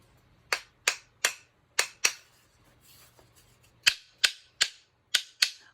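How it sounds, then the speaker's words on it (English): Sharp wooden clacks struck in quick pairs and short bursts, with a brief pause midway, close and crisp with nothing else around. "Yeah, these are wooden spoons from Miss Taylor's kitchen."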